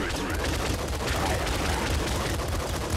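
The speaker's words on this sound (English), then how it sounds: "And the machine gun's garbage." Machine gun fire in a video game, a dense continuous rattle of rapid shots with heavy low rumble, loud and close, running unbroken for about three seconds.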